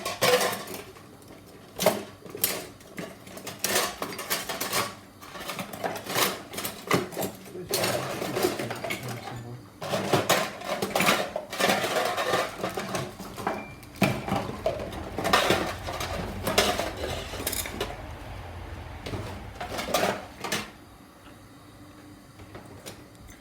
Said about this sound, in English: I've got a little whisk here to whisk it up with.